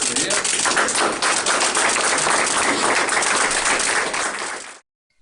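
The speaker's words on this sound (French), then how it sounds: "On peut applaudir." Audience applause at an inauguration event: a dense, steady patter of many hands clapping at an even level for nearly five seconds, then cutting off abruptly into silence.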